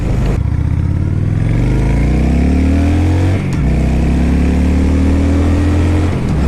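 A Honda Shadow motorcycle engine drones steadily at cruising speed in fifth gear, loud and close, its pitch rising slightly, dipping briefly, then climbing again.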